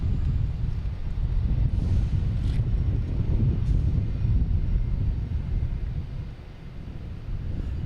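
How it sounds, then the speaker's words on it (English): A United 737-900 airliner takes off from runway 9 at Boston Logan, its jet engines a loud, steady broadband roar mixed with wind buffeting the microphone, with no talk throughout. "We have so United 737-900 heading to runway 9 for takeoff."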